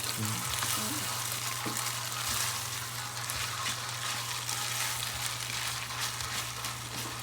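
Food fries in oyster sauce in a pan, giving a steady close sizzle with scattered pops and crackles and a low hum underneath.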